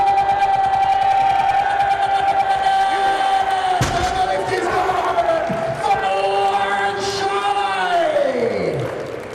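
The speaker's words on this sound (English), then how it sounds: "Need a big, big cheer when this goes up." A crowd at a Britain's Strongest Man event cheers during a heavy lift of over 900 pounds, a sustained roar with a sharp slam partway through and voices shouting over it, fading near the end.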